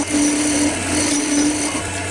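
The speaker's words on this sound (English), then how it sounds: "Just going to put the shoulder on the tenon with a skew chisel." A skew chisel cuts a shoulder on a wooden tenon spinning on a lathe, a steady close whirring scrape with a faint tonal hum running beneath it.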